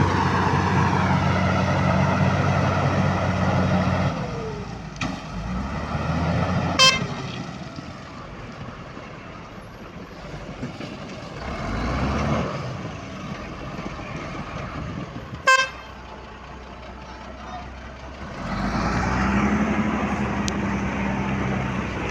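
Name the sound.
wheel loader loading sand into a dump truck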